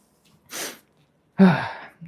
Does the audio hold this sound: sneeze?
yes